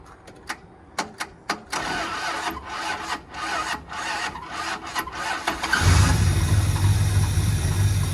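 A carbureted 318 V8 with over-advanced timing cranks with several sharp starter clunks, turns over roughly for a few seconds, then catches and settles into a loud, steady, rumbling idle.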